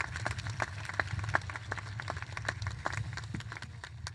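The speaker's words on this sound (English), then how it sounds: "let's give them a big round of applause for the class of 2026" Scattered, fairly distant applause from a graduation crowd honoring the class of 2026, with irregular individual claps over a low hum.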